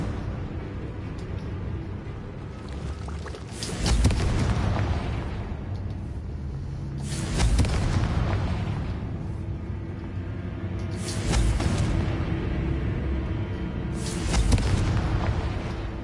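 Confringo fire spell explosions in the Hogwarts Legacy video game: four loud booming blasts spaced a few seconds apart, each bursting then fading over a steady low rumbling ambience.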